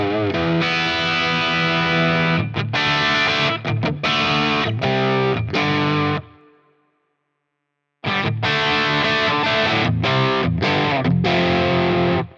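An electric guitar plays through a Friedman IR-J preamp pedal with an EV12 impulse response, giving loud distorted chords and riffs in two bursts separated by a brief pause.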